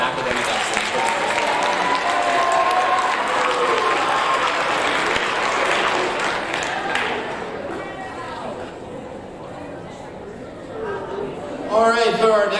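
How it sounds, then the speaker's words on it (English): Sustained audience applause fills a school awards ceremony for seventh graders, dense and steady clapping with scattered cheers that tapers slightly before swelling again near the end, while voices carry underneath. "One more round of applause for our academic excellence"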